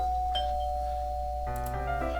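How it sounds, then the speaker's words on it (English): Doorbell in the video game Doki Doki Fallen Angel: a sustained electronic chime tone, then a second brighter ding layered over it, clean and close over a low steady hum, with no speech. "I walk up and ring the doorbell."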